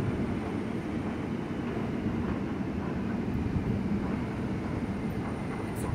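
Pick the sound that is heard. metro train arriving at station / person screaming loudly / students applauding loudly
metro train arriving at station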